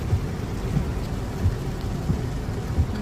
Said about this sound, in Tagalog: Super ulan.